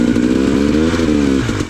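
A motorcycle stuck on slippery, muddy ground, its engine revving hard in a steady loud drone close by, dropping slightly near the end as the throttle eases.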